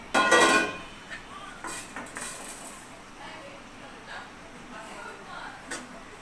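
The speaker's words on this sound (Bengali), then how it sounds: "পাত্রটা একটু চেঞ্জ করে নিলাম" A cooking pot for biryani is swapped and handled, starting with a loud metallic clatter and followed by softer knocks and clinks while a person talks over it.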